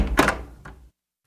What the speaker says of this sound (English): I opened the door.